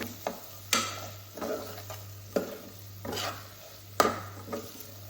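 Kerala-style squid roast stirred with masala in a hot pan, about seven distinct spoon scrapes and clacks at a steady pace over a continuous low sizzle, close and loud with no talking.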